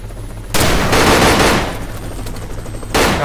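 Bursts of loud, close machine gun fire in the Arma 3 video game, a long rattling volley followed by a pause and another burst, with a steady low helicopter drone underneath.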